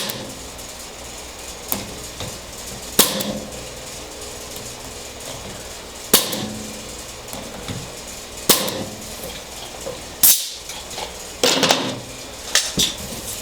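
A roofing nail gun fires several times at close range, each shot a sharp percussive crack with a metallic clatter, spaced irregularly a few seconds apart over a quiet background.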